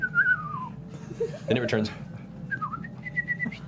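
A person whistles short tonal calls to imitate and answer a small black bird with a white stripe, with clear whistles at the start and again near the end and a voice talking in between.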